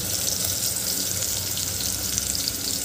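Chopped onion with ginger garlic paste sautéing in a pan for a traditional Vidarbha spinach dal, a steady loud sizzle and hiss filling the whole stretch without pause.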